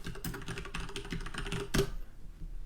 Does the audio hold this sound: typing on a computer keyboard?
yes